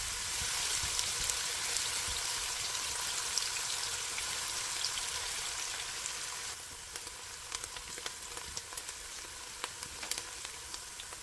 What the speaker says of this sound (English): In a pot, add your oil and fry the first part of the onion